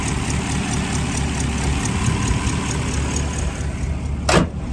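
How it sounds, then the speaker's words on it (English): A 1959 Edsel Ranger sedan engine idles smoothly and steadily nearby, with a brief whooshing sweep near the end. "That engine just purrs like a kitten."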